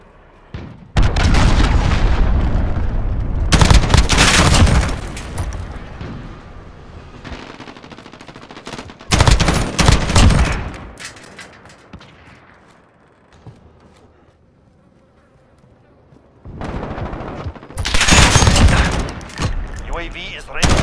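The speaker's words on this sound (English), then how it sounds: "Allied cruise missile launched." Cruise missile strike in the game Call of Duty Modern Warfare, with several loud booming explosion bursts and rumbling gunfire separated by quieter gaps, some of them echoing and fading out.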